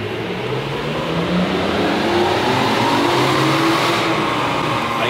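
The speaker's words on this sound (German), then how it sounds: "Ich gebe jetzt gleich einfach mal im dritten Gang Vollgas" A BMW supercharged engine is held at full throttle in third gear, delivering a loud, sustained close-up roar with a rising pitch as it pulls without a break.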